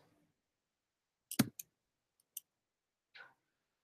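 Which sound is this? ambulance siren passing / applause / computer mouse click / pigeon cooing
computer mouse click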